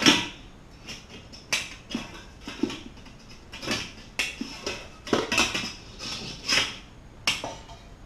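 Stanley cook set pots, plates and utensils clattering as they are packed together, a run of sharp metallic clinks and knocks at irregular intervals, close by with no talk.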